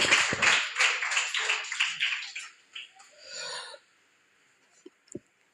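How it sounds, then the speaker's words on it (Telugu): A church congregation clapping during Telugu Christian worship, a dense burst of many hands applauding that gradually thins out and stops, followed by a few faint taps in near silence. "చప్పట్లు కొడదామండి"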